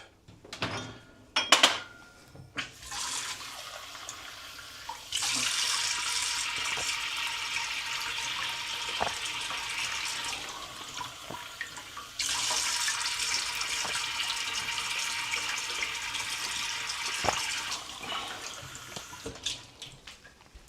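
A kitchen tap runs in two long bursts of steady rushing water, with a few light clinks and knocks of dishes and handling before and between, nearby and with no talk.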